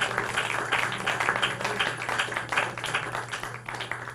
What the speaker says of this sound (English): we'll give James a round of applause to represent them.